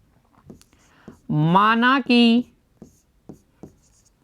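Someone writes a solution to a math problem on a board, producing sparse, sharp taps and short scratches spaced through the moment, with a brief spoken voice in the middle.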